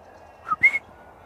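A short whistler bird call of a few clear whistled notes, rising then held, fairly close in a quiet outdoor setting.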